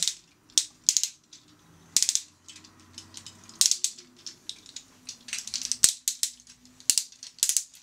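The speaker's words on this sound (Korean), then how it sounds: "이게 관절마다 이렇게 클릭 관절이 사용돼서 따닥따닥 돌아가는 그 느낌이 있어요" Ratcheting click joints of a Transformers Gigatron toy robot being turned, sharp close clicking in quick irregular bursts with handling noise between them.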